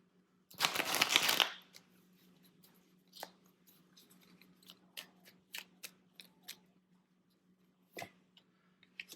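Tarot cards being shuffled: one short, dense riffling burst near the start, followed by scattered soft taps and flicks as cards are handled in a quiet room.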